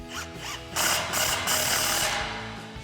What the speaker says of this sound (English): And then we'll grab a 13mm socket to tighten it down.